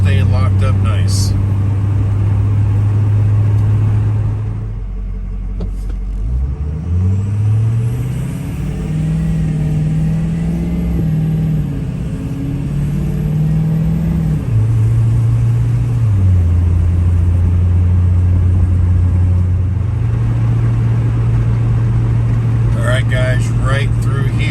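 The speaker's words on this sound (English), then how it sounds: "Look here, guys, I'm accelerating. The truck is driving just fine." A diesel pickup truck that has had transmission trouble accelerates on a road, heard from inside the cab. A steady low engine drone rises and steps through gear shifts, then settles into an even cruise.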